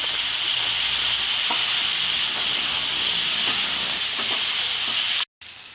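Onions and potatoes fry in a pan for a Bengali-style katla fish curry, giving a steady, loud sizzle and hiss with faint stirring scrapes, close up and without speech, before cutting off abruptly near the end.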